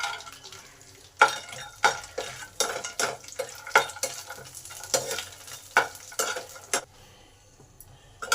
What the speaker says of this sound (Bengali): এবার বড়িগুলোকে ভালো করে ভেজে নেব।